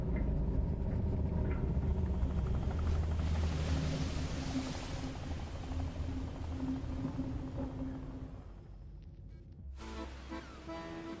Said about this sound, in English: the executive boards his helicopter, rotors already spinning